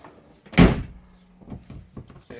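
The door of a 1972 Range Rover, fitted without its edge seal and sitting loose, shuts with one close, solid clunk, followed by a few faint rattles and small knocks.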